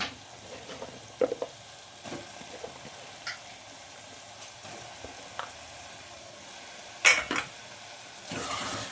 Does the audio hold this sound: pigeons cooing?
no